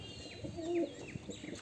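A pet pigeon gives a brief, low coo up close, followed by several quick, thin chirps from other small birds in the background. There is no speech.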